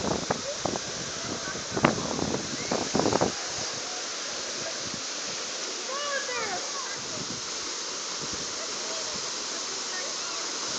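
A waterfall roars in a constant broad wash, with voices and some clattering over it in the first few seconds and faint bird chirps later.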